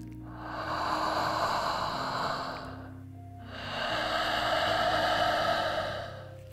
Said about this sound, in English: When you do ujjayi with the mouth open,